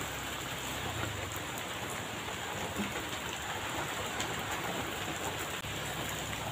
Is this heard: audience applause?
no